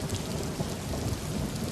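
Heavy rain pours down in a dense, steady roar with a low rumble of thunder beneath it, loud and unbroken through the short stretch.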